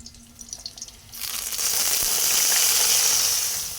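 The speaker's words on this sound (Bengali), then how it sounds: "চালের থেকে জলটা ঝুরিয়ে রেখে দিচ্ছে" Water pours and drains off soaked rice in a steady rushing stream. It starts after a quiet second of faint clatter and runs loud and close to the end, with no talk.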